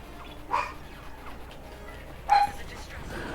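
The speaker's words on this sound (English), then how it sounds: "What are you barking at?" A dog gives two short barks, one early and one louder a couple of seconds later, over a quiet background with a faint hum.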